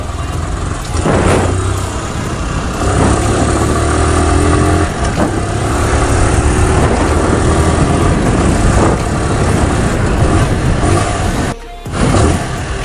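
A motorcycle engine climbs through the gears, loud and close with wind rush, its revs rising and dropping at each shift until a brief dip near the end.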